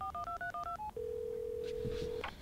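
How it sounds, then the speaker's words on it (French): New iPhone dialing a call: a quick run of about eight touch-tone beeps in a brisk rhythm, then a single sustained ringback tone, with a faint voice near the end. "J'appelle Suzanne"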